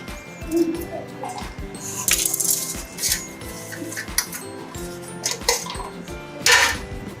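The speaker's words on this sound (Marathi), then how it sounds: "तर हे खोबरं चिरून घेते आता मी." Coconut is chopped with a knife for a Maharashtrian drumstick bhaji, heard as close, irregular knife taps and clacks against a board, with occasional utensil clinks.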